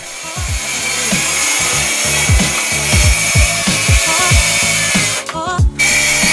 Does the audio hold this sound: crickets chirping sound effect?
no